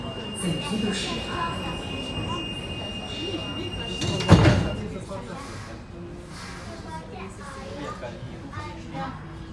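A metro train rumbles steadily along, with a brief loud screech of wheels midway and faint voices murmuring in the background.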